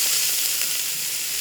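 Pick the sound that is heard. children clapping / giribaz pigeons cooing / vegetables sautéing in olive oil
vegetables sautéing in olive oil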